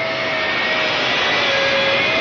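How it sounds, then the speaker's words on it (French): An aircraft engine whines steadily while taxiing along a runway taxiway before takeoff, a loud constant jet roar with a sustained tonal hum, unbroken throughout with no speech. "À présent, on roule sur la bretelle jusqu'à la piste 3."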